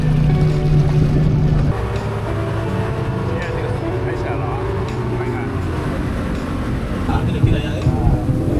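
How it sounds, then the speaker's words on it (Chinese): A boat's engine drones steadily at sea off Roatan, a low constant rumble with wind and water wash, and voices talk over it. "这是我们的驾驶员在这开船了"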